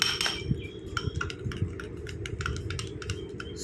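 Rapid whisking of an egg mixture in a bowl, a steady run of quick clicking and tapping strokes against the bowl's side, close and moderately loud, with no voices.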